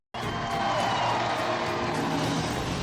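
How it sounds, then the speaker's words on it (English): A huge, cheerful crowd at a royal wedding roars its welcome, a loud continuous wash of cheering that bursts in abruptly and holds steady. "The huge, cheerful crowd that has waited so long and patiently roars and waves its welcome."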